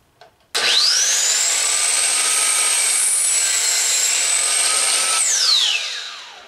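A miter saw slices through a wooden block in one loud, steady cut, its motor whining up fast, holding a high even tone for several seconds, then spinning down as the blade is lifted.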